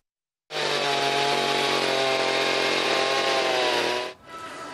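A petrol chainsaw cuts into ice for sculptures and slides on a town square in winter, a loud, close, steady engine roar held for about three and a half seconds before cutting off abruptly.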